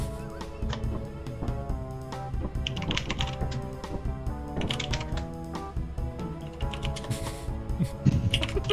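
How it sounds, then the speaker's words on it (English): Rapid keyboard typing clicks inside an underwater video game, irregular bursts of clatter over layered game music and ambient hum. "Typing."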